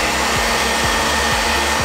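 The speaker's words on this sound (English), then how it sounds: "use a hair dryer to dry" A hair dryer set to hot blows continuously as custom sneakers are dried, a steady close whooshing hum with faint rhythmic pitch wobbles and no voices.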